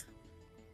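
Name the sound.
coughing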